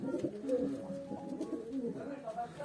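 Several caged pigeons coo softly and continuously, close by, their low murmuring calls overlapping.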